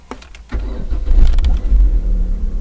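A car engine cranks briefly, catches after about half a second, and settles into a loud rumbling idle close by, with the battery under test during the start.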